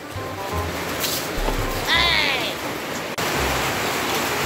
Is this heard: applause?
no